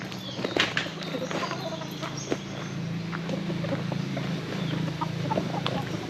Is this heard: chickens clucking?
yes